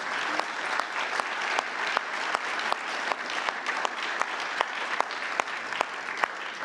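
An audience at a NATO Women, Peace and Security reception applauds, with steady crowd clapping and a few sharp, distinct claps standing out over several seconds.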